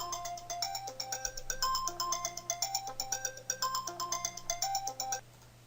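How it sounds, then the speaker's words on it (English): Telephone ringing repeatedly with a bright electronic ringtone melody, a steady looping pattern of tones that carries on without pause for several seconds and then stops, alone with no talking, during a stock market trading recap. "you try to make a video and the phone just won't stop"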